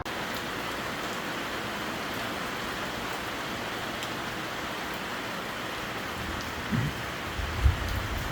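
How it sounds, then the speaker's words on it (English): Rain falls at night in Perdido Key, a steady, even hiss of drops on surfaces with a couple of faint low thumps near the end. "Rainy night"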